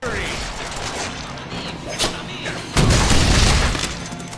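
Explosions of enemy soldiers in the 2013 Deadpool video game, a burst of booming blasts and crackling debris that swells near the end, mixed with game effects and a voice talking over it.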